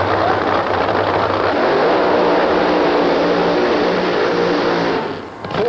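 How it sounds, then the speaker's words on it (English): Roaring 1985 drag racing funny car engine during a burnout at the ADRA world finals, a loud, steady broadband blast that holds for about five seconds before dipping briefly near the end. "almost intimidates his competition with the unbridled fury of his burnouts"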